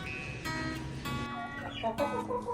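Several hens cluck and murmur close by in short, overlapping bursts, with a few higher squawky notes toward the end.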